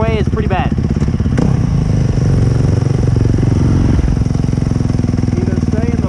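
A Yamaha YZ450FX dirt bike engine labours steadily up a muddy hill, loud and close throughout, its throttle held low and even with a brief rise and slight revving. A voice may be partly buried under the engine.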